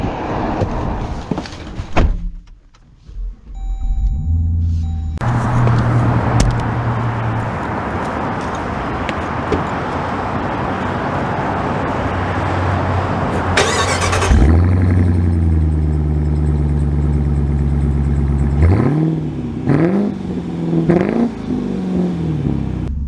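A Dodge Durango Hellcat SUV starts up and drives off. A sustained loud engine roar builds, then a door-like clunk, then rising revs and gear changes, close and steady throughout, with no talking.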